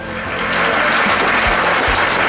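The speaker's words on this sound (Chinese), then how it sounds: "请大家能够呢鼓掌通过一下" Members of a Lions Club give dense, steady applause at a monthly meeting, approving a motion. The sound swells in the first half-second and then holds loud and unbroken with no voices.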